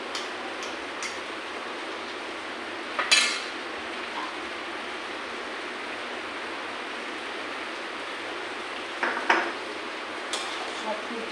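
Ghee and spices being mixed in a cooking pot, a quiet background hiss broken by a few sharp metallic clinks of the spoon against the pot.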